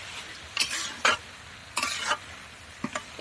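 Castor seeds are stirred and dry-roasted in a pan until scorched: a handful of sharp rattling, scraping stirring strokes come in quick bursts over a low, faint sizzle, with nobody speaking.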